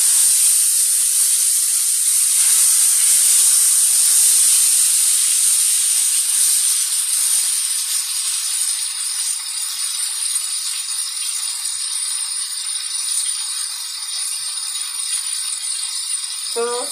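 Floured chicken fried steak browning in a hot pan gives a loud, steady sizzling hiss with faint crackles, continuing evenly and alone throughout.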